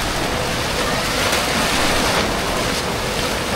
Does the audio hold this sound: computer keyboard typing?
no